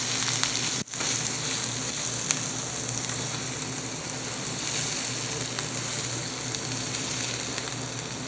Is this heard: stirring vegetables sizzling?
yes